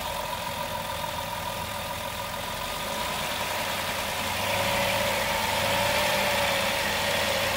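A 2007 Chrysler Town and Country engine idles steadily at about 800 RPM with a low, even rumble and mechanical buzz, growing slightly louder partway through; the engine sputters on acceleration.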